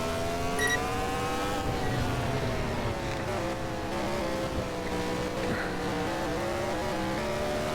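Race car engines on the last lap in the Short Track Showdown racing game, a sustained buzzing drone of engines with shifting pitch, steady and moderately loud, no talking.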